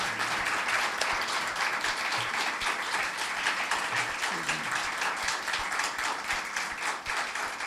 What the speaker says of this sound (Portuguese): pedir palmas para os dois